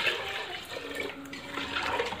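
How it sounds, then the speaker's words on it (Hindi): Water poured into a pot of browned chicken curry for shorba, a steady watery pouring and sloshing running throughout at moderate level, with no talk. "और अब इसमें मैं पानी शामिल कर रही हूँ,"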